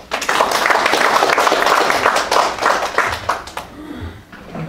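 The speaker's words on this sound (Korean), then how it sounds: "박수 한번 부탁드리겠습니다" An audience claps for a golf mechanics lecturer at a university CEO course, a dense burst of many hands that thins and fades near the end.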